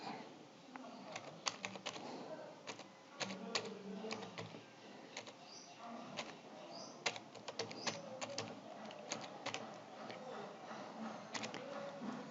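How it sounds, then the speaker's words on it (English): Fast, steady typing on a computer keyboard, with dense light key clicks and occasional louder taps close to the microphone over a faint background hiss. "So now you can type any words as you like."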